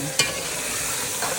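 Mutton browning in hot oil for shaljam gosht, a turnip and meat curry, sizzles steadily up close while a spoon stirs it, with a sharp scrape near the start and another toward the end.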